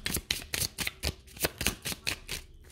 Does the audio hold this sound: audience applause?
no